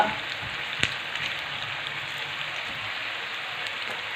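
Pieces of stale chapati rolled into vadis fry in hot oil in a pan. A continuous, even bubbling hiss is close and fairly loud, with one brief clink near the start.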